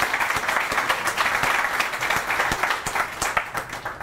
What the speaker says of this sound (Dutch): ik ben blij met uw applaus